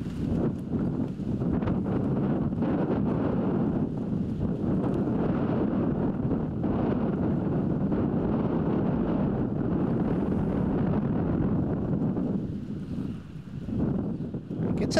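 Steady wind gusting across an open disc golf tee at a tournament, a continuous loud rumble buffeting the microphone throughout with no speech.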